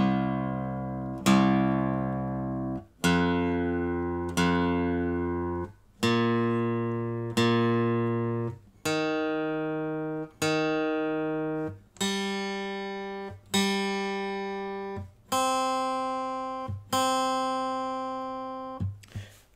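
Guitar strings tuned to C tuning are plucked one at a time, about a dozen notes stepping up in pitch across and back, each ringing out and decaying before the next, with no talking.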